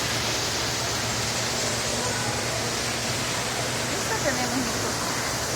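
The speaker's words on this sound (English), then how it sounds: "Oh, I like the waterfall. You see the waterfall." Garden waterfall among plants gives a steady, even rush of falling water, with people's voices talking over the constant wash.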